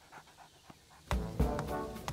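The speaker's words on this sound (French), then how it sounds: "Capteur, arrête d'aboyer" A cartoon dog barks and pants in short bursts, faint soft huffs at first, then several louder sharp barks close by, with no talk over them.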